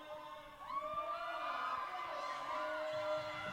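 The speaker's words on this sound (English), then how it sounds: "it's a hometown crowd, as you can hear the excitement in the Bucks crowd" An excited home crowd of Bucks fans cheers at a hockey game: a faint, distant swell of mingled voices and shouts that holds steady throughout.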